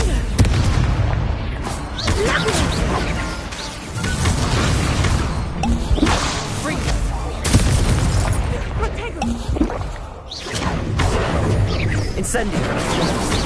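Confringo blasting spells explode repeatedly in Hogwarts Legacy on PS5: heavy booming blasts and crashes follow one another in quick succession across the whole stretch, loud and close, with voices mixed in.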